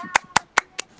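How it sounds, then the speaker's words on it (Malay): Four sharp claps in an even rhythm, close and clear, given as classroom applause for a pupil. "Tepuk tangan untuk Aisyah Finder."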